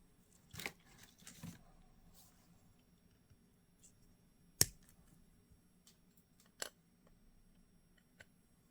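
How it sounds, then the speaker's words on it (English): Scissors snip through the shanks on the backs of decorative buttons, a few sharp isolated clicks and snips spaced apart in a quiet room. "So we got to cut off those shanks as well."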